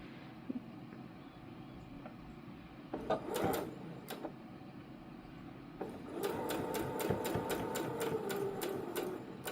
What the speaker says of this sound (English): we're gonna be sewing a little bit past at the end too